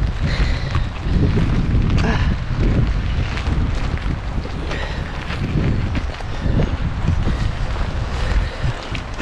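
Strong wind buffets the microphone outdoors on a cold summer day in Alaska, a steady loud low rumble with gusting surges throughout and no talking.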